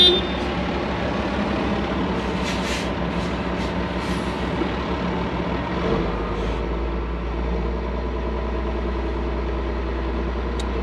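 Loaded dump truck hauling dirt at a barn building site, diesel engine idling and rumbling at a distance as it prepares to back off onto a bank, with faint high squeals and a deeper engine note joining partway through.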